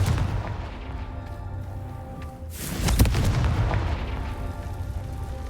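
A Confringo fire-blast spell from Hogwarts Legacy goes off as one loud, heavy blast midway through, rising sharply and then rumbling over a steady game ambience.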